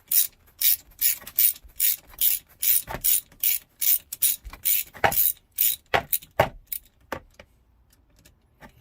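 A hand ratchet turning a 5/16 socket on a Sea-Doo jet boat's Rotax engine, with about twenty loud, close, evenly spaced clicking strokes that slow and fade toward the end.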